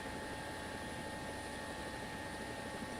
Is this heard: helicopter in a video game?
yes